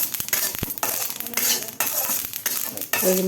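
A spoon scrapes and clatters in a kadai while meal maker curry is stirred, the mixture crackling and spluttering, with irregular metallic knocks and scrapes, fairly loud and close, and no voices.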